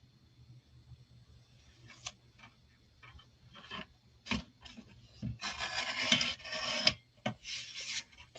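Green cardstock being cut for a Paper Pumpkin kit project, heard as scattered short rasping strokes that build into denser scraping bursts near the end, close and fairly quiet with no talk.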